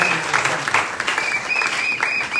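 A church congregation claps together through a Sunday sermon on generosity, the applause steady, dense and fairly loud, with a faint voice or tone riding above it.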